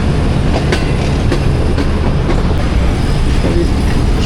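A Pakistan Railways HBO diesel locomotive, number 8083, hauls a second HBO locomotive, 8087, near Lahore Junction, giving a loud close rumble with rhythmic clickety-clack of wheels over rail joints throughout, and no talking.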